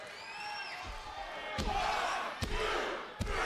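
An arena crowd at a WWE NXT wrestling show roars and cheers in a standing ovation, a steady wash of whoops and yells with several sharp thuds from the ring, while a commentator talks over it.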